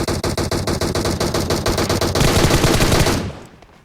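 Loud, close automatic gunfire from the PUBG Mobile video game: rapid evenly spaced shots in a long burst that merge into a dense roar and then fade out.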